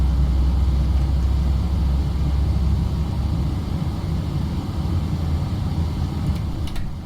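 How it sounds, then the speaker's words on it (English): Engines of a Ryanair Boeing 737 in a flight simulator spool up, a steady loud low rumble and roar filling the cockpit without talk, holding constant throughout. "Hear the engines rising."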